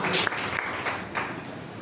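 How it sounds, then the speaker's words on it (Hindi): A church congregation at a Sunday service claps in applause, a brief, dense burst of many hands, moderately loud and fading slightly. "ताली बजाओ।"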